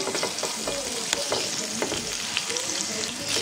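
Garlic cloves and bay leaves frying in butter for pizza sauce, with a busy, close crackling sizzle, frequent small pops and the scraping of a stirring spoon, steady and moderately loud, with no speech.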